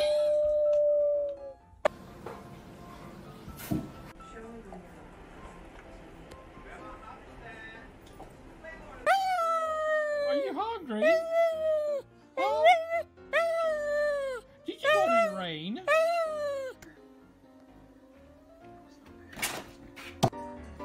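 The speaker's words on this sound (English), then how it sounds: "Alexa, bark like a dog." An Alexa smart speaker plays dog sounds: after a spoken command and a quiet stretch, a run of yips, whimpering howls and barks comes in several short bursts, then ends with a few sharp final yelps.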